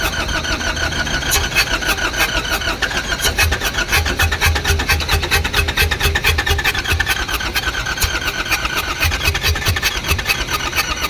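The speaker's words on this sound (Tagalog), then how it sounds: "Kaya dito sinubukan na naman naming paandarin ulit ang makina." A Nissan NV350 van's YD25 diesel engine cranks steadily without catching, the starter's rapid rhythmic grinding churning loud and continuous for the whole stretch.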